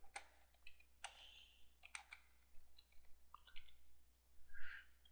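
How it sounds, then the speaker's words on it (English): Typing on a computer keyboard while making a banner, heard as quiet, irregular bursts of sharp clicks and taps with short pauses between. "I start typing."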